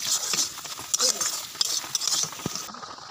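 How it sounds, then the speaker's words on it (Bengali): Mango chutney with ginger paste being stirred with a spatula in a pan, giving scraping, shuffling strokes with small clinks over a soft background sizzle, close and moderately loud. "ভালো করে নেড়ে চড়ে নিতে হবে।"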